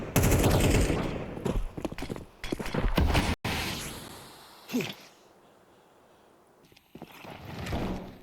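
SMG fire in a Counter-Strike esports match between fnatic and Alliance: dense bursts of rapid automatic shots fill the opening seconds, then drop to quieter scattered shots and bursts, with no voices.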